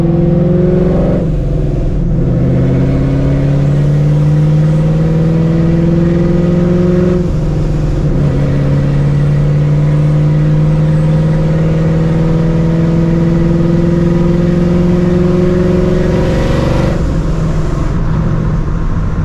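A supercharged 2004 Mustang GT V8 accelerates hard with no talk, the engine note climbing through the gears, dropping briefly at each shift, then rising again loud and close.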